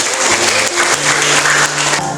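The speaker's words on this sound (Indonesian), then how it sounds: "Jadi berikan aplaus yang buat kalian." A classroom group of students claps together in loud, continuous applause for a group's presentation, dense and sustained for a couple of seconds with no talking over it.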